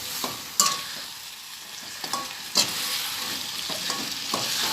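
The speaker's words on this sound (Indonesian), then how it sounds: "Lalu kita aduk lagi" Sweet soy sauce chicken with tomato sauce stirred in a frying pan: a steady close sizzle with a few sharp scrapes of the utensil against the pan, and no talking.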